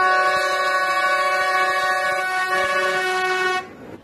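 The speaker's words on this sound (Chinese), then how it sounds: "这一列是从重庆到内江的5612次小慢车" A slow passenger train on the Chongqing to Neijiang line sounds a long, steady horn blast lasting several seconds, loud and fairly close, then it cuts off abruptly near the end.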